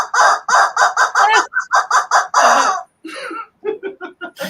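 A chicken squawks and clucks loudly and close by in a rapid, agitated series of harsh cries, with a brief pause before more broken, strangled-sounding calls.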